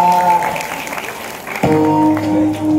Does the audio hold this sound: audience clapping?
yes